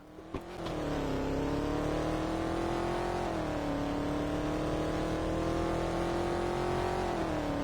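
A steady, droning Ford Mustang GT engine in a Roblox driving game holds a constant rumble with a slight rise and dip in pitch, sounding synthetic and flat, with no voices.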